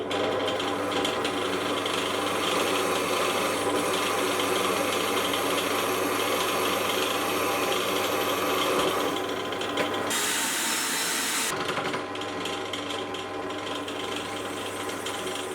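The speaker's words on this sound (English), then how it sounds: "I'm instead going to do most of the drilling, or at least as much drilling as I can, using a center bit" A center bit bores a hole on a milling machine, a steady loud mechanical cutting and grinding drone with a ratcheting, gear-like chatter running continuously, with a brief harsher burst near the end.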